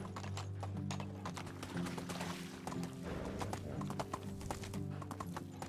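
A horse in Medieval Dynasty gallops with fast, rhythmic clip-clop hoofbeats, close and steady, and neighs briefly over the pounding hooves.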